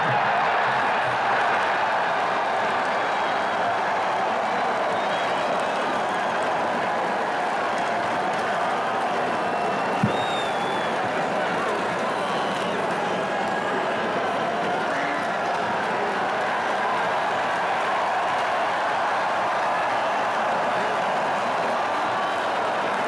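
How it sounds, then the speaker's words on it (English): A large football crowd at Kinnick Stadium during an Iowa–Northwestern game roars in a continuous, dense wash of cheering and noise that holds steady throughout. "where the Kinnick crowd realizes the change is happening."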